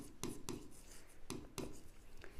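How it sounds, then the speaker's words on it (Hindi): Chalk or pen strokes on a board or paper during a 9th class algebra lesson, a few short sharp scratchy taps in an uneven rhythm, close and quiet with no talking. "पहले यहाँ पे हम लिखते हैं कि मल्टीप्लाइंग"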